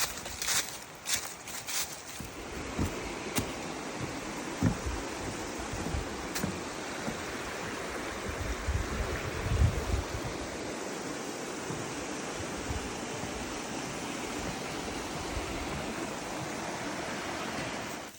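A river flowing along the North Country Trail near Wren Falls in Wisconsin gives a steady rushing wash throughout, with a few close knocks and footstep-like thumps early on and no talking.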